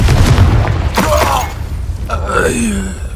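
A Confringo blasting spell explodes in a video game, a short punchy boom followed by crackling debris and a fading rumble, with grunting vocal sounds mixed in.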